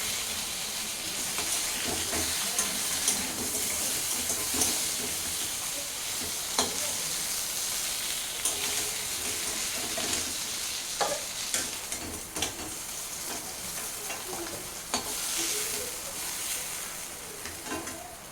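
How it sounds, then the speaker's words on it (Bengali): Pieces of fish frying in a hot wok make a continuous loud, hissing sizzle, with occasional scrapes and clicks of stirring throughout and no voices. "মাছের মাছটা আমার ভাজা হয়ে গেছে, এখন আমি মাছগুলো তুলে নেব"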